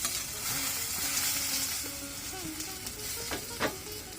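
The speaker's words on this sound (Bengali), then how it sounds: "এভাবে ঢাকনা দিয়ে ঢেকে ঢেকে আমি বেগুনগুলোকে ভেজে নেব" Eggplant slices frying in oil in a lidded pan give a steady, dense sizzle that runs throughout at an even level, with a few faint clinks near the end.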